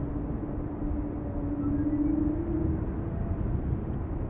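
A Norwegian Airbus A320neo taxis toward the runway at Schiphol Airport, a low steady jet engine rumble with a faint whine, heard from a distance, with no voices.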